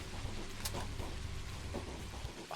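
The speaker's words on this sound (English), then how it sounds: "It's pouring rain." Heavy rain pours down in the game Pathologic Classic HD, a steady dense wash with low rumbling that fills the scene and persists throughout.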